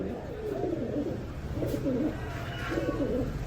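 Red Lahori and fancy pigeons coo in soft, low, repeated bursts over a murmuring background, close by and steady.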